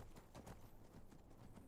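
Horse hooves clip-clop steadily in the game Skyrim, a quick run of close hoofbeats filling the short stretch with no talk over them.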